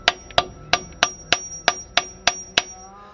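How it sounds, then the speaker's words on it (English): Hammer tapping a failed brake cylinder on a Vauxhall Astra, nine sharp metallic knocks at an even, unhurried pace, close and clear with a brief ringing tail after each strike. "once I've disconnected the brake line in the back behind there, and then I've just give it a couple of taps"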